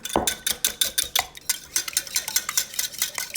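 Eggs are whisked in a small bowl, a rapid, rhythmic clatter of the whisk against the bowl, close and steady with no talking.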